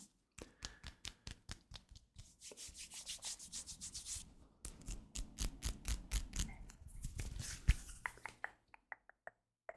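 Bare hands rub and brush together in close, quiet ASMR, with quick rhythmic bursts of dry friction at the start and end and longer continuous rubbing strokes in the middle.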